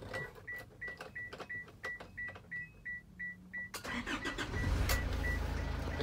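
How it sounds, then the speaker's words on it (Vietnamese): A 2018 Isuzu IZ65 3.5-tonne truck sits with a steady repeating warning chime before the diesel engine cranks and fires, settling into a loud, rumbling idle. "Đây mình sẽ nổ máy này cho mọi người xem qua cái"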